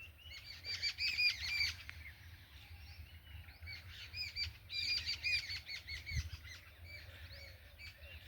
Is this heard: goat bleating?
no